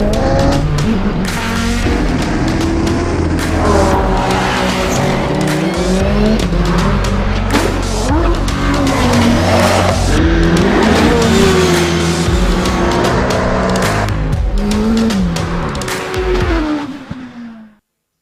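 Race cars at the Shelsley Walsh hill climb roar loudly, engines revving and shifting pitch with tyre squeal mixed in. The sound holds at full volume for most of the run, then fades quickly to silence at the end.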